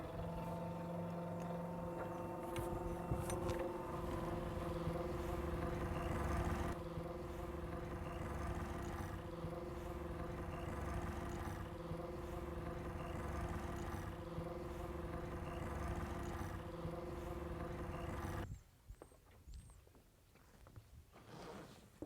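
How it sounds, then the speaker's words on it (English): An electric winch hoists a mainsail on a sailboat fitted with a Forespar Leisurefurl boom, a steady close motor whine with tonal hum running for most of the stretch before cutting off, followed by quiet rustling. "we'll start hitting the electric winch and powering the sail up"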